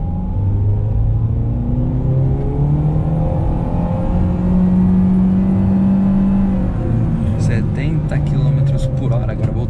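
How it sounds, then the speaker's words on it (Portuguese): A 2022 JAC T40 CVT Plus with a 1.6 Greenjet DVVT engine accelerates at full throttle in sport mode, a loud steady drone rising smoothly in pitch as the CVT holds revs, heard from inside the cabin with someone talking over it. "vou fazer aquela arrancadinha, aproveitar que não tem nenhum movimento. Ó, full pedal, coloquei no S."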